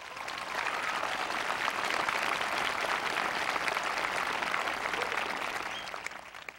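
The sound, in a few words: audience applause at graduation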